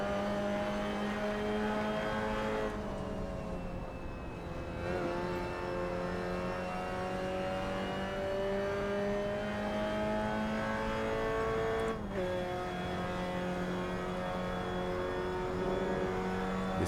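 Mazda MX-5 Cup race car engine climbing a hill at Lime Rock Park, a loud, steady high-revving drone heard from inside the car, with brief dips at gear changes before it climbs again.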